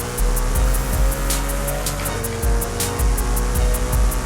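A 2013 McLaren P1, rear-wheel drive, in a racing video game, its engine droning loud and continuous while heading onto a highway, with rhythmic pulses through the run and no talk.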